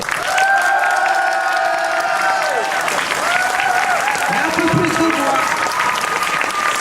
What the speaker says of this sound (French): C'est parti, c'est maintenant, applaudissez!